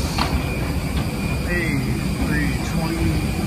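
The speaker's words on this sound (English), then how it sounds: "And on the plane is an Airbus" An Airbus A320-200 on a Lufthansa flight from Frankfurt to Moscow fills the cabin with a steady, loud engine and airflow drone, with faint voices talking beneath it.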